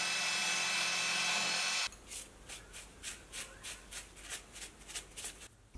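A 2mm end mill makes light cuts at higher RPM, producing a faint, rapid series of rhythmic scraping bursts after a louder steady whir at the start, heard close and quiet.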